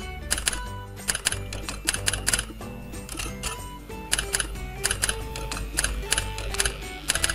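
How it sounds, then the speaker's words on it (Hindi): Keyboard typing effects from Key Sound Generator software on a Windows computer: rapid clusters of crisp mechanical clicks in uneven bursts over a steady musical background bed. "एक की साउंड जनरेटर के नाम से एक जो है सॉफ्टवेयर जो एप्लीकेशन है वो रन करना स्टार्ट कर चुकी है। तो अब हम इस पर टाइप करते हैं"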